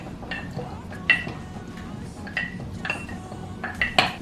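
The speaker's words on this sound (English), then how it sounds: "we're going to add a bit of basil, and we're going to muddle that in" A muddler presses basil into a Negroni in a glass, giving a few sharp clinks and taps of wood or metal against glass, spread over a few seconds beneath a low room murmur.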